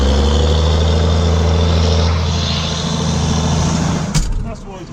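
A deep, rumbling engine with a stainless steel straight-through exhaust idles loudly and steadily with a throaty, barking exhaust note, then drops off near the end.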